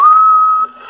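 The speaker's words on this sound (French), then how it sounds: "Je vais siffler un coup pour voir" A person whistles over a CRT 7900 CB radio on a shared channel: one short, steady, clear tone lasting under a second, loud and alone.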